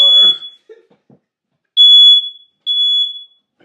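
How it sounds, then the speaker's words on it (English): An apartment smoke alarm sounds three shrill, piercing beeps close by, separated by short silences, with a brief voice heard near the start. "Oh no, fire alarm."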